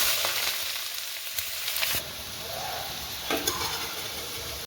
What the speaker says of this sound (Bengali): এবার এর মধ্যে পেঁয়াজটাও ভেজে নেব।